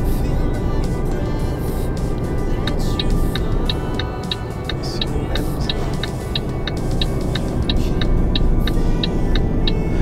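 Truck engine drone in Euro Truck Simulator 2 while leaving Frankfurt, a steady loud low rumble with a regular ticking, like a turn indicator, running through most of the stretch and no voices.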